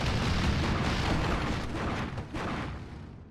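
Strafing-run explosions in the war game Steel Division 2 come as a dense, continuous roll of booms and bursts that fades slightly toward the end.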